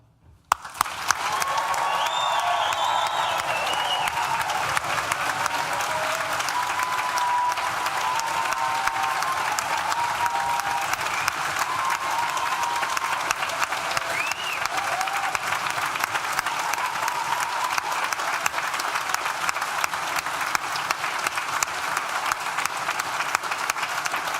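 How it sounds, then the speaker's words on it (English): A graduation ceremony audience applauds and cheers steadily for over twenty seconds, a dense, continuous wash of clapping with scattered whoops rising over it, loud and sustained throughout. "I'd like to give you one last opportunity to whoop, to holler, to applaud, to stamp your feet"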